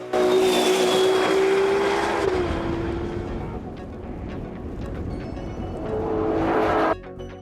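A Ferrari 6.5-liter V12 engine revs up with a rising whine toward 9,500 RPM, then holds a loud, steady roar before cutting off abruptly.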